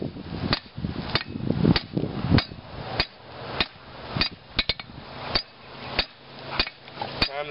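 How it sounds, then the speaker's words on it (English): A hot railroad spike is hammered on an anvil to flatten it into a knife blade, with about a dozen sharp, ringing metallic strikes at a steady, fairly quick rhythm. The blows sound close and loud, and a few have a heavier, denser thud. "now that the spike's hot, we can actually start flattening it for the blade"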